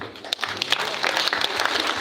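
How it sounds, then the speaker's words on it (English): Church congregation giving a big round of hand clapping applause, dense and steady throughout at fairly close range, with faint voices mixed in. "Let's give the Lord a very big hand clap."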